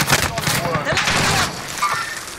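Rapid bursts of gunfire from Call of Duty Warzone, an Alcatraz Mini Royale quads match, crackle loudly and densely throughout, with players' voices talking over the shooting.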